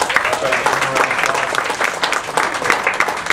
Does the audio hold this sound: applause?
yes